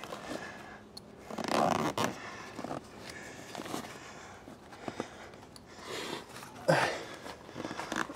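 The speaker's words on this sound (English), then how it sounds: "Now let's see if she'll zip together." A zipper being pulled closed on the cover of an Ironman 4x4 270 awning, two clear close rasping zips separated by quieter fabric handling and scraping.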